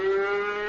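A cow's moo from a radio advertisement for farm animal models, one sustained steady lowing tone lasting under a second, loud and alone with no talk over it.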